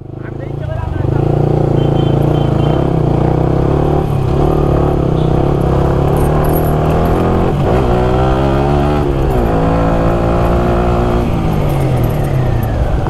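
A motorbike on the road to Sajek roars loudly and close, its engine droning steadily, then climbing in pitch as it accelerates hard.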